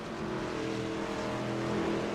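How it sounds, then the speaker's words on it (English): Engine of a race car blowing up in a truck-series racing simulator game at North Wilkesboro: a steady, loud droning roar that holds without a break for about two seconds. "it sounds like he blew that engine"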